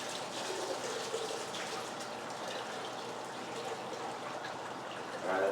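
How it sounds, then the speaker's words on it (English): Hot water runs from a tap down a drain in a steady, moderately loud splashing stream, with a brief louder gush at the end. "You're going to let it run a little bit and down your drain."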